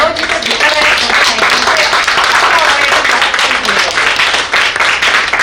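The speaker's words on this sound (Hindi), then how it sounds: "पहले एक बार इतनी जोरदार तालियां बजाएं आप लोग" An audience at a Kalam literary event in Ranchi claps loudly and continuously for a guest, a dense, steady round of applause throughout, with a voice audible beneath it.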